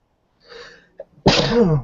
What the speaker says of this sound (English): And she'll sneeze very suddenly.